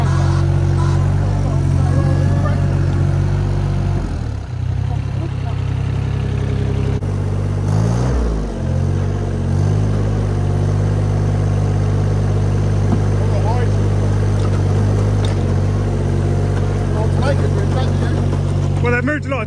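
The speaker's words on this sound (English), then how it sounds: "The little garden tractor's in here, pushing it up." A Kubota garden tractor's engine drones steadily while it pushes a pile of dirt, a loud continuous low rumble with slight load changes, and someone talks over it throughout.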